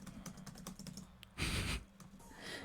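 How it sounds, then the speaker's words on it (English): Keys clatter on a computer keyboard in irregular close bursts, with a louder whooshing noise in the middle and a softer hiss toward the end. "I don't know if you guys can hear my keyboard"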